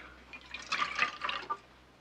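A drink is poured in a western drama scene, a short run of liquid splashing and trickling into a cup, soft and close, fading out after about a second.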